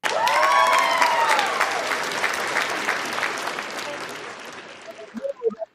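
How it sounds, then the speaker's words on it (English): Audience applause and cheering after a boxing promo show featuring a national amateur champion, loud and dense at first, then tapering off, with voices and a few sharp sounds near the end. "Let me give everybody a round of applause."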